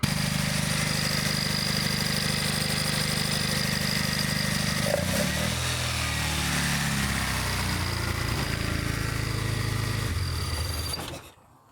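A Toyota 4A-GE 20-valve engine with a fault like a leaky injector, running steadily up close and loud, its tone shifting partway through before it shuts off at the end.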